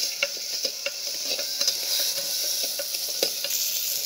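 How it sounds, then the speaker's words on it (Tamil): Crab sautés in a pan with tomatoes, producing a bright, steady sizzle with frequent light stirring ticks and scrapes, close and without voices. "அடுத்தது நண்டை போட்டு கொஞ்ச நேரம் வதக்கலாங்க."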